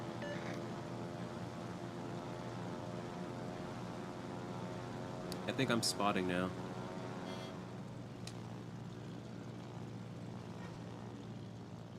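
Carrier aircraft launching in World of Warships give a steady droning propeller hum with harmonic tones and a brief rising whoosh, under a player's voice.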